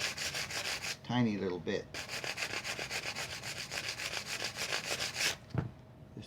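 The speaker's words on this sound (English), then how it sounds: "So what I'm going to try to do is just scuff off the edge of this white binding" Rapid back-and-forth scuffing along the edge of white binding on a guitar neck, a close, even rasping rhythm, briefly interrupted while a person speaks, then resuming until a final stroke.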